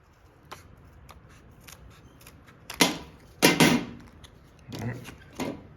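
Scissors snip through a plastic blister pack holding a key fob battery, a few light clicks followed by louder crinkling cuts and plastic rustle, close and alone.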